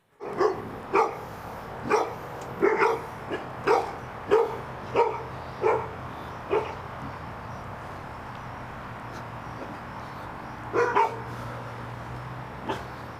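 Dogs barking around a man during a police chase: a run of sharp, separate barks in an irregular rhythm at moderate distance, then a quieter stretch and a final short burst, with a low hum underneath.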